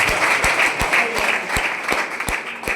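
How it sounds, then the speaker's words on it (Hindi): Lively applause in a hall at an RCM celebration event honouring someone's father-in-law, a dense wash of clapping with louder individual claps near the microphone, and a faint voice heard underneath. "एक बार ससुर जी के लिए तालियां"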